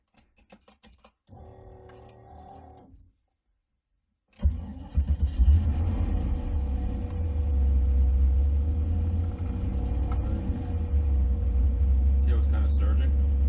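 A car engine with a faulty throttle position sensor cranks and starts after brief rattling and a pause, then settles into a loud, steady idle that rises and falls as the RPMs surge.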